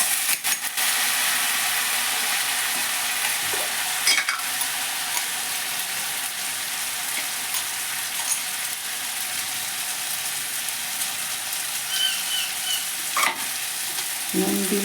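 Fried potatoes are stirred with a spice paste in a pan, giving a steady, dense sizzle throughout with occasional scraping knocks of the utensil against the pan.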